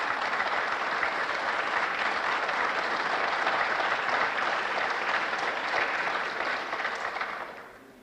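Sustained, dense applause fills the French National Assembly chamber, a steady roar of many hands clapping at once that holds evenly and then fades away near the end.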